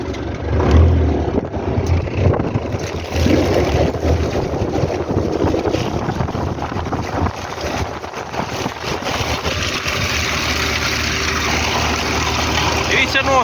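A tractor pulling an ORIGIN SEED 3.0 seeder while sowing soybeans in a field, a steady loud engine rumble mixed with heavy wind buffeting on the microphone, continuous throughout as a person talks over it.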